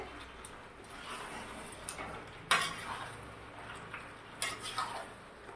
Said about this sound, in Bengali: এবার ভালো করে একটু কষে নেব সবজিটাকেও চিকেনের সাথে